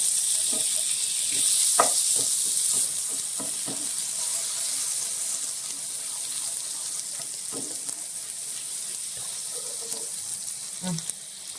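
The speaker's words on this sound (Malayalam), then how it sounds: "നമ്മൾ ബട്ടർ ഇട്ടിട്ടൊന്ന് നമുക്ക് പനീർ സോട്ട് ചെയ്തെടുക്കാം" Paneer sautés in melted butter in a pan with a steady close sizzle and hiss, broken by scattered light taps and scrapes of stirring, without speech.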